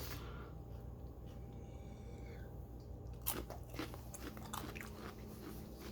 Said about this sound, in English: I'm sorry, it's not nice to chew and talk